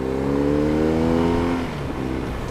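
BMW R1250RS motorcycle engine accelerating, a loud close rising drone with climbing harmonics that levels off and fades slightly after a second and a half.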